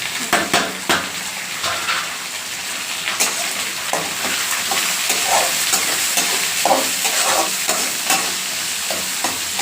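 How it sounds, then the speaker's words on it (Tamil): Onions and crushed garlic sautéing in a pan for a ponnanganni greens stir-fry, a steady bright sizzle with frequent scraping and clinking of a spoon stirring against the pan, close and loud. "வெங்காயம் நல்லா வதங்கிடும்."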